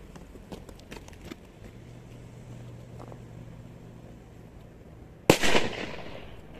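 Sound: Viper 1 Black 50 mg firecracker exploding

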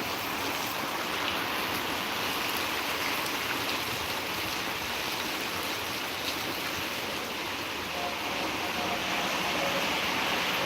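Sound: heavy rain

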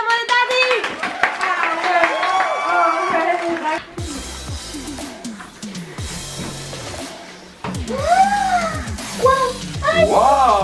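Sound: hand clapping

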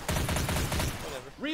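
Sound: M5 rifle gunfire in Left 4 Dead 2 video game

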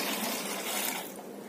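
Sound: bowl of water poured into container of lemons for pickle

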